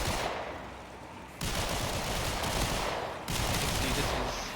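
Sustained rapid automatic gunfire from weapons in the video game Warframe, loud and dense, in long continuous bursts with brief drops between them.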